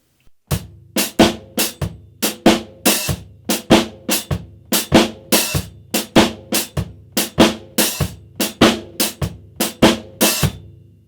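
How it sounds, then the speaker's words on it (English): Shuffle drum groove played on a kit, steady swung hits with crisp cymbal wash as the hi-hat opens on the upbeat of four, about eighteen strokes over eleven seconds, close and loud with no talking. "we're going to open the hi-hat on the let of 4"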